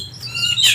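Caged kacer (magpie robin) giving a short burst of bright, close chirps, with whistled notes rising and sharpening toward the end.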